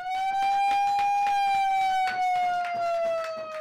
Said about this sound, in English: a colleague sounds a siren to announce that 6 more householders have kept their homes